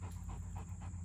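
A dog pants steadily while holding a toy in its mouth during obedience training, with rapid rhythmic breaths close to the microphone and no talking.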